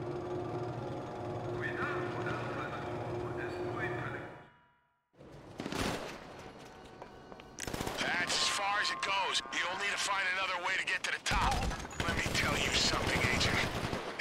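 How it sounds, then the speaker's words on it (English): Non-player gunmen in GTA Online unleash bursts of rapid gunfire during a Criminal Enterprises heist mission, loud crackling volleys that stop briefly and then resume in dense, sustained clatter, with a player talking over parts of it. "They were blind firing"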